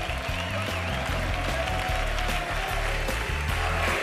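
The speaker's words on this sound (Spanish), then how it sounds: "Aplauso a nuestros perdedores de la prueba, ¿eh?" A studio audience at a Spanish TV game show claps in a continuous wash, mixed under loud stepping music throughout.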